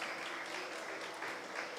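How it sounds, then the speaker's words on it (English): An audience applauds at a carnival prize-giving ceremony. The clapping is soft and distant, a steady wash of many hands that lasts under two seconds. "Give yourselves a round of applause"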